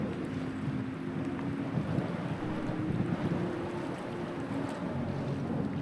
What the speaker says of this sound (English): Windy, holy moly.